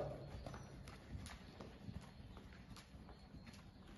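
A horse trots with steady two-beat clip-clop hoofbeats during a counter-bend schooling session, the footfalls fairly close and even over a quiet background, with no talk.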